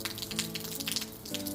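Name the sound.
rain falling on a garden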